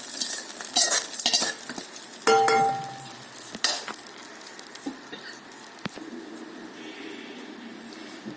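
A spoon stirs a tempering through mango pachadi with scraping, clinking strokes against the pot and a soft sizzle, loud and close, then quieter patter.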